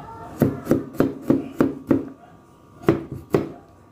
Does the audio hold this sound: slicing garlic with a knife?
yes